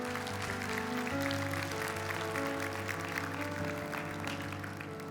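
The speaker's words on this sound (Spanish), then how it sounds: "Dele un aplauso al Señor." Church congregation applauding after a prayer, a continuous patter of many hands heard over sustained organ or keyboard chords at moderate level.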